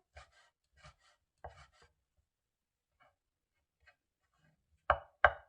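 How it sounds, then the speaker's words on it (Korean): A knife cuts an ingredient into fine julienne strips and minces it on a cutting board while preparing Korean beef rice porridge. Sparse, soft cuts tap out irregularly, then two loud, sharp chops land close together near the end. "그래서 또 채 가늘게 일단 썰어요."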